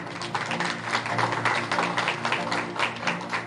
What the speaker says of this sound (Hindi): एनसीपी सुप्रीमो द्वारा इस्तीफा वापसी का ऐलान पहले तालियों में डूब गया